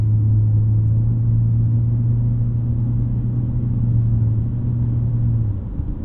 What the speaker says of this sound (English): It's a little bit of a buzzy 4-cylinder, but not terrible.